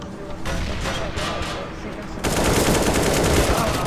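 Rapid bursts of video game gunfire crackle in quick succession, growing louder and denser in the second half, close and continuous.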